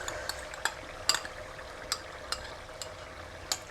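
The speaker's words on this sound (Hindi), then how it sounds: "और दही को भी हम हिलाते हुए अच्छी तरह से पका लेंगे।" A spoon stirs yogurt into sizzling fried spices in a pan for fish curry, giving a soft steady fry with sharp clicks of metal against the pan at irregular intervals, close and fairly quiet.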